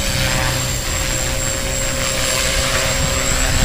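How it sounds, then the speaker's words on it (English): An EXI 250 RC helicopter fitted with a JR G270 3D gyro runs steadily close by, a loud, even rotor and motor whine with a constant high tone and no pauses. "It takes a second for this helicopter to start up."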